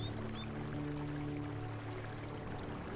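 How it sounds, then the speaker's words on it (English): Falls of the Big Sioux River cascade over pink Sioux quartzite in a continuous, even rush of water, with a few brief bird chirps near the start. "The falls of the Big Sioux River, where ancient quartzite breaks the surface in a violent,"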